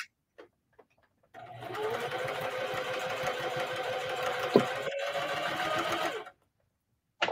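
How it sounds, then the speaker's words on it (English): A sewing machine stitches around the edge of a quilted placemat made from jelly roll strips, a close, steady whirring run of about five seconds that starts and stops abruptly, with brief clicks before and after. "I'm just going to stitch around mine."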